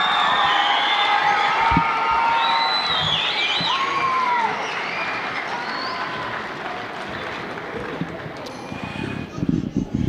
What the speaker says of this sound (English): one more big round of applause for the 7th grade band